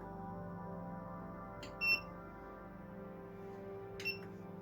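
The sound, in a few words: machine beeping when finished, PCB soldering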